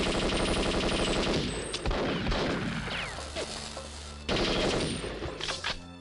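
Rapid automatic gunfire in the Perfect Dark PC port, dense bursts of shots with impacts and crashes, loud and close, pausing briefly before another heavy volley.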